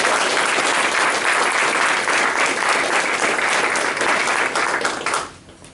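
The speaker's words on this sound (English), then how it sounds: "Please give the family members and guests a well-deserved round of applause." Sustained, dense applause from a large audience at a US Army 832d Ordnance Battalion AIT graduation ceremony, steady and loud for about five seconds before dying away quickly.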